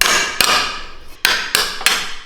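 Sharp metal hammer strikes ring out on a 1970 Bird mini bike, four or five loud, close blows with brief ringing decays between them and no voices.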